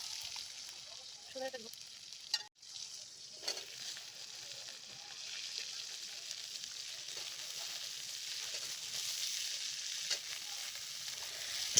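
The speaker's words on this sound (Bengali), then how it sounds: "টমেটোগুলো হালকা ভাজা ভাজা করে" Chopped tomatoes fry in a pan for a light fish curry with drumsticks and ash gourd, a dense, steady sizzle that runs throughout with a few stirring scrapes and knocks early on.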